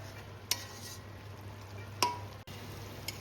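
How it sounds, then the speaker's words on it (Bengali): Water lily stems cook with mustard-based spices in a pan, a quiet low sizzle under a faint hum, punctuated by two sharp spatula knocks against the pan. "এইবার আমি মশলার সাথে শাপলাটা ভালো করে আমি কষিয়ে নেব।"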